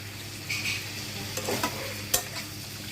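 Spices with turmeric stir-fry in a pan, giving a soft sizzle under intermittent scraping and clinks of a spoon, fairly quiet and close.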